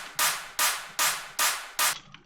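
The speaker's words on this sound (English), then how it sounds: "Cashmere's clap," Cashmere clap sample from the Vengeance pack sounds five times in a steady rhythm, each a bright, noisy burst with a short reverb tail, loud and alone.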